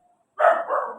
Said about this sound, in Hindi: कुत्ता भौंक रहा